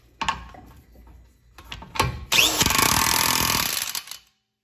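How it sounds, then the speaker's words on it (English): A pneumatic impact gun runs a sustained burst on an Acura NSX axle nut, preceded by a few short clicks and taps, loud and close with no talk over it. "I'm going to shoot it on with the gun first and then torque it on."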